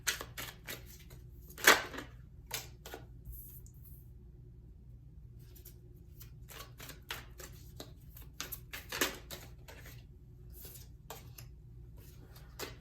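Tarot cards are handled and shuffled at close range, giving soft papery slaps, flicks and taps in scattered clusters, with one sharper snap and long quiet gaps between them.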